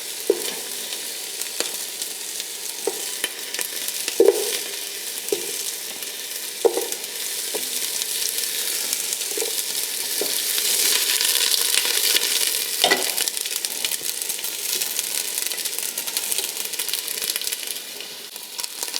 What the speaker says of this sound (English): So now what we're gonna do is actually char our ginger and our onions. So I'm gonna carefully lay these in cut side down.